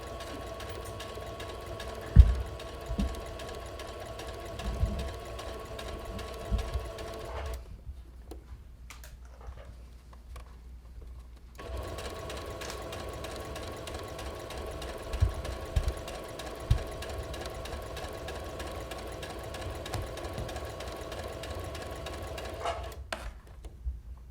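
A sewing machine stitches fabric in two long steady runs, a close, even mechanical whirr with light ticking, broken by a pause of a few seconds in the middle, with no speech over it.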